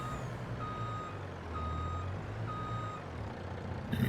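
A farm truck backs up with a steady series of evenly spaced reversing beeps over a low engine rumble, loud and close.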